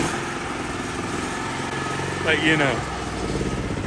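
A Raven MVP 7100 generator, ATV and lawn mower combo engine runs with a steady rough drone, while someone talks briefly over it.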